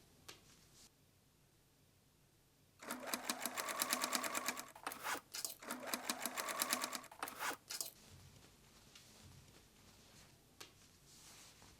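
A sewing machine stitches elastic inserts onto the open waistband edges of jeans, running in a loud, close, rapid whirring burst for several seconds with short pauses, then stopping.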